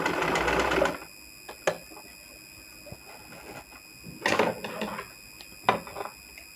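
A table top sewing machine stitching a buttonhole, with short bursts of rapid mechanical stitching separated by quiet pauses and small clicks, close and alone.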